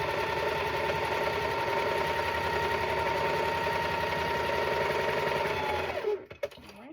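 A sewing machine stitches a quilt block at a fast, steady whir for about six seconds, then stops abruptly, leaving a few faint clicks and handling noises.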